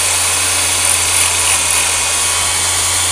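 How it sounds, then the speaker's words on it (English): An electric chainsaw sharpener from Princes Auto/Harbor Freight grinds a chain, giving a steady, loud, continuous high-pitched whine with a low motor hum underneath and no pauses. "here's a switch you turn on, and we'll just do a first grind."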